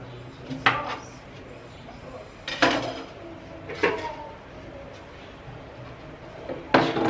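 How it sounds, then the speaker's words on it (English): A knife chops juice ingredients into tiny pieces, giving four sharp, close knocks spaced irregularly over a low steady background hum. "So we're gonna chop into tiny pieces."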